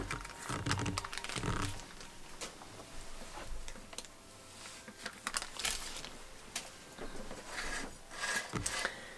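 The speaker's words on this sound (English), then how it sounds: "Now I'm going to pull out my parchment paper." Parchment paper pulled out and handled while lining a cake pan for a Black Forest cake, making a run of crisp, close crinkles and papery clicks that come in uneven bursts.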